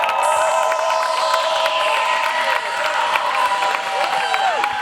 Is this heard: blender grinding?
no